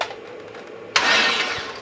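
Turning the key on an LS-swapped C4 Corvette: after a quiet moment the starter engages with a sudden burst and keeps whirring steadily for about a second, loud and close.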